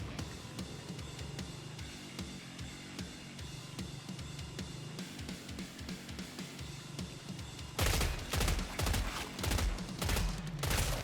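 Steady rhythmic bursts of automatic gunfire in the shooter Killing Floor 3, repeating shots throughout that grow louder and harsher near the end, with no talking.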